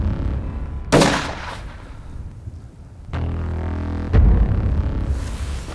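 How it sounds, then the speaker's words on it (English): A rifle fired at a giraffe: one sharp, loud report that cuts off quickly, followed by a second heavy thump and low outdoor rumble; no voices. "I'm gonna shoot him between the eye and the ear."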